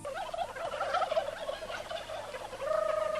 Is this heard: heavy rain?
no